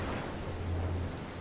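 Steady rain with a low rumble of thunder in the stealth video game Mark of the Ninja, a continuous wash of noise with no talking.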